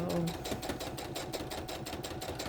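A sewing machine stitching binding onto a crazy quilt, running in a steady fast pulsing rhythm close up under faint background talk.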